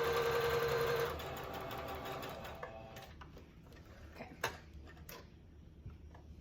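A sewing machine stitches at its maximum stitch width and length in a brief, loud, close burst of rapid mechanical whirring. It then stops and gives way to faint scattered clicks and handling sounds.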